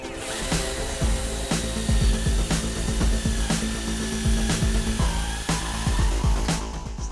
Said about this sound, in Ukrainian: Робимо отвір під підключення LED стрічки з одного з торців.